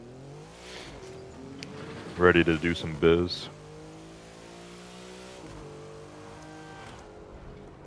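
Car engine in The Crew 2 racing game, a V6 sports sedan, hums steadily, then revs hard in two sharp bursts before settling back to a smooth drone, with someone talking throughout.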